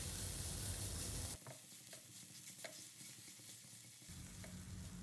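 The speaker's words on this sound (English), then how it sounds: "on medium flame we will saute them for 1 to 2 minutes until they start to wilt" Chopped fenugreek (methi) leaves sautéed over a medium flame in a pan, a soft sizzle with a burst of hiss at the start, then quieter crackling and light stirring scrapes.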